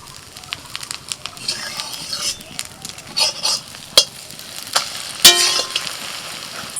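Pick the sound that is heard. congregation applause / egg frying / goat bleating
egg frying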